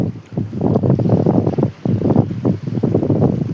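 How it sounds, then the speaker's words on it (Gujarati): Strong wind at the seashore buffets the microphone in heavy, gusting low rumbles, with a brief lull partway through before the roar resumes. "વાતાવરણ કંઈક થઈ ગયું ને પવન વધારે છે"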